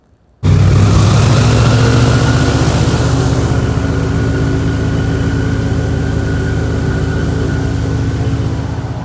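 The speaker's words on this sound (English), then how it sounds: "let's jump into us riding this airboat. It was so much fun, and it really wasn't as loud as I was thinking." An airboat carrying riders across the Florida Everglades near Marco Island starts up abruptly and holds a loud, steady engine and propeller drone that continues alone without pause.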